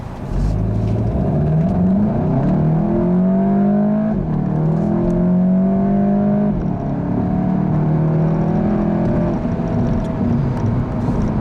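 A 2015 Volkswagen GTI accelerates hard in sport mode, its engine note climbing steadily through several gears with brief dips at each upshift, loud and close from inside the car, with no one talking.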